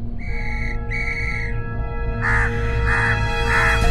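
Wild crows, a flock called up by a silver whistle, are conjured in a storybook scene: two drawn whistle-like blasts give way to three harsh, close caws layered over a steady low hum.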